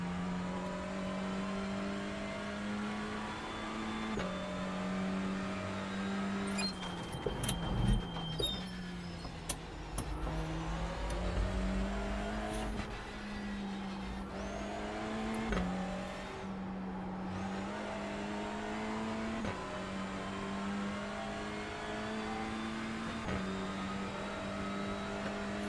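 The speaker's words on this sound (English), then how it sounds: "I like the sound of this car." Honda race car engine in the iRacing sim at Thruxton, a sustained near engine note rising through the gears with repeated upshift drops and a brief harsh burst midway, continuous for the whole stretch with no talking.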